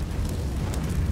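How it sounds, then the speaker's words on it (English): A flashbang grenade detonating in the game CS:GO gives a loud, sustained rumbling boom with a deep low-end roar that fills the whole moment, with no voices over it. "Deploying flashbang."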